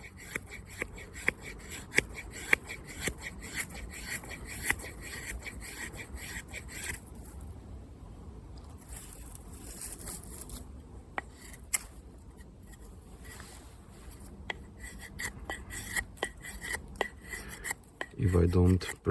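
A Condor Terrasaur knife with a convex 1095 steel grind carves shavings from green wood, making repeated rasping scrapes and small clicks throughout, close and moderately loud, with a few louder knocks at the end.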